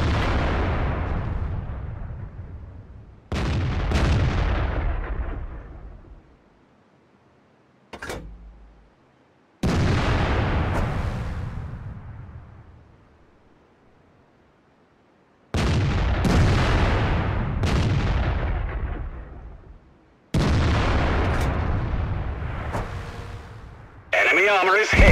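Heavy artillery blasts from an FV304 self-propelled gun in a tank video game, about five loud booming shots each followed by a long decaying rumble, spaced a few seconds apart with near silence between.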